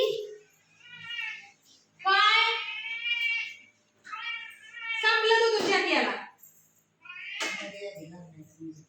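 A hungry cat meows repeatedly in long, drawn-out, pleading calls, close and loud, separated by short pauses, with a person's voice mixed in.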